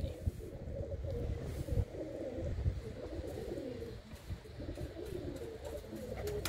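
A black-eyed female breeding pigeon coos softly close at hand, low throaty burbles repeating unevenly over faint background rustle, with no speech.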